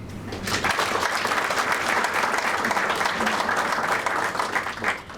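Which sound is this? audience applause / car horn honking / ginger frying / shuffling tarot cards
audience applause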